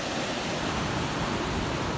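Irrigation water pouring through a concrete head gate of a National Irrigation Administration canal, a dense, steady rushing roar that stays loud and even with no voices over it.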